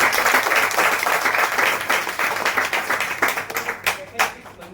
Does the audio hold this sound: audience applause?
yes